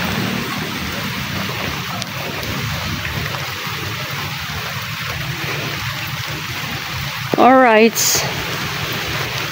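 Heavy rain pours in a steady, dense wash throughout, with a voice speaking briefly near the end over a short burst of louder sound.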